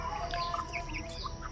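Chickens crowding around feed on a village farm, with busy overlapping clucks and chirps over a steady background hum, close and continuous.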